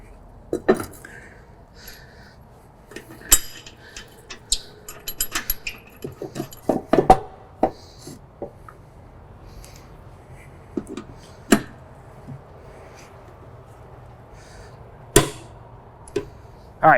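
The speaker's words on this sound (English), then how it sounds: "make sure that you are tightening down these blades to torque specs" A torque wrench tightens the blades on an old mower deck, sharp metallic clicks and clanks arriving in scattered bursts with quiet pauses between them.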